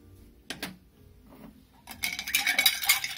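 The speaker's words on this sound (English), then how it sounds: "Good vigorous stir." A Thomas Crown cocktail gets a vigorous stir: a few soft knocks, then a dense, bright, continuous rattle of ice and spoon against glass that builds loudly over the final second.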